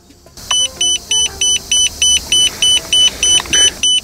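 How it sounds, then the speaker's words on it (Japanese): A loud tire pressure monitor alarm warning of low air beeps in a fast, regular series of about a dozen identical high-pitched tones, close by, after a brief quiet start. "エアが足らないってなったらこういう風なアラームが鳴るみたいですね"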